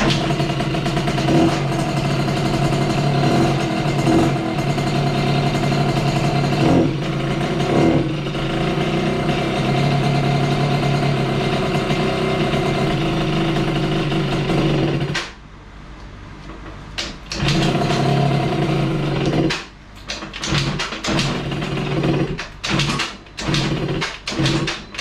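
A Yamaha Aerox scooter engine runs loudly and roughly close by, then sputters and dips before firing again in uneven bursts.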